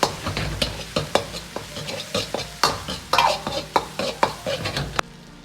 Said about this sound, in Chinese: 炒出颜色，炒出辣味。